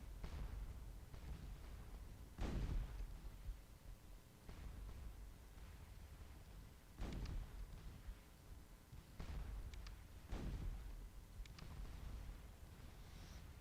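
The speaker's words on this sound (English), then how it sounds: "a lot of artillery still being fired here on this flank" Artillery fire from gun batteries on a Napoleonic battlefield in the strategy game Scourge of War: Waterloo, heard as a steady bed of distant rumble punctuated by several heavy booms that arrive at irregular intervals.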